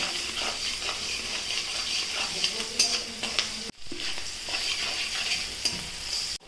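Green chillies sizzle steadily in a pan while a spoon stirs them, with scraping strokes and a few sharp clicks against the metal. There is a short break partway through before the frying resumes.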